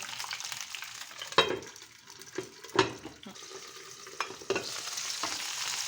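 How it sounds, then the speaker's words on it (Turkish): Sliced peppers sizzle and fry steadily in a lidded pan, with a few sharp clatters of stirring or lid handling cutting through the constant crackle; no talking. "Şimdi bu biraz güzelce kızarsın"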